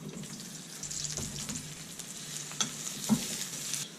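Grill House kebab meat sizzles steadily in a hot pan, a constant close crackle and hiss with a few sharper pops and spits near the end, no voices.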